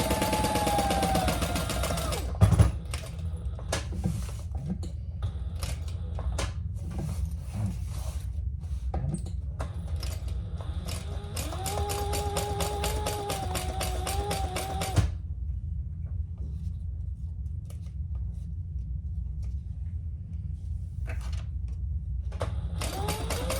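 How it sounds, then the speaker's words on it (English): A sewing machine stitches a seam open on a Lemonza clutch, running in steady mechanical bursts with a rapid, buzzy rhythm, near and fairly loud, with short pauses between runs and little or no talk. "But you're stitching that seam open."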